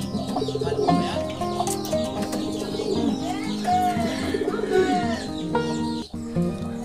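Pigeons coo and murmur in a loft where a young visiting bird has joined them. There are layered, repeated throaty coos with occasional chirps and a brief flutter, heard close by and continuously.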